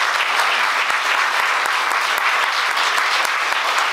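Dense, steady applause fills a theatre in Jawor, a loud continuous wash of many hands clapping from a full audience with no gaps.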